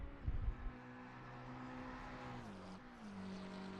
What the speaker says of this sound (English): It's supposed to have a V8 in it. Doesn't sound like a V8.